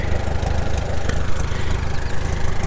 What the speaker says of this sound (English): I don't know if you guys could hear the tractor.